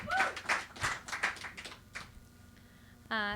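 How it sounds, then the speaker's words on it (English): Audience at a garden open mic clapping as a slam poet walks up to the stage, a short burst of scattered claps that fades out, followed by a voice starting to speak. "Can we please give a warm round of applause for Shell as she comes up to the stage"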